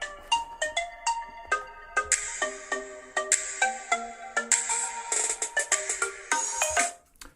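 A bright electronic ringtone melody from a phone speaker inside a small cardboard box plays in quick plucked notes, thin and boxy, fairly quiet, lasting several seconds before stopping.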